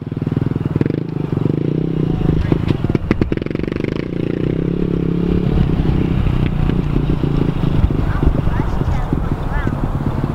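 A mini dirt bike engine runs steadily and loudly in second gear while being ridden, with a continuous buzzing drone under people talking nearby.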